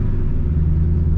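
A supercharged 700-plus horsepower Terminator Cobra with a manual gearbox rumbles from inside the cabin, a deep, steady low engine drone heard close up for about a second.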